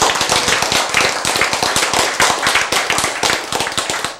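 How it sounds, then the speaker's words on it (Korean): A church congregation claps in quick rhythmic unison, loud close sharp hand claps repeating at a steady brisk pace for several seconds. "박수! 네."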